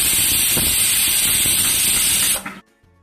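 A pressure cooker holding beef curry vents steam in a loud, steady, close hiss for about two and a half seconds, then cuts off abruptly into near silence.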